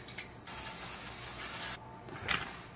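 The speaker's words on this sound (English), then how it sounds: "I'm gonna start off with some cooking spray butter here" Cooking spray butter spritzed into a pan: a short hiss, then a longer steady burst of about a second and a half, then one more brief spurt, close and fairly quiet.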